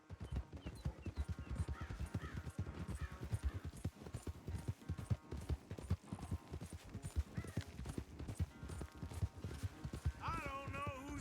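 Horse hooves pound in a fast, steady gallop during a race in the video game Red Dead Redemption 2, with rhythmic clip-clop beats, an occasional whinny and music layered over it.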